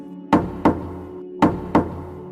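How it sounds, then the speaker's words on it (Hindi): Knocking on the far side of a door: two pairs of sharp, resonant knocks, each pair quickly spaced, with a short gap between the pairs. "उसी वक्त दरवाजे की दूसरी तरफ से खड़खड़ाहट की आवाजें सुनाई देने लगी।"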